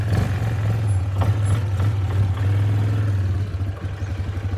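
A Yamaha Grizzly 450 ATV engine runs in high gear with a steady, close, low rumbling drone and some mechanical clatter throughout, without any talk.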